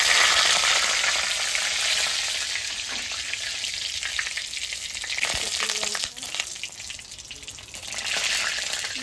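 Cumin and bay leaf crackling in a hot pan, a continuous bright sizzle with faint knocks and stirring noises, close by and steady for several seconds.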